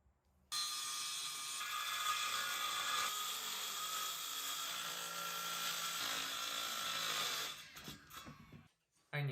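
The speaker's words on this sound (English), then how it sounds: "I'm gonna start with measuring and cutting plywood." A power saw cuts through plywood for a dog ramp, a loud sustained whining buzz of about seven seconds that then winds down with a few knocks of handling.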